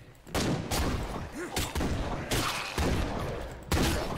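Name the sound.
gunfire in video game State of Decay 2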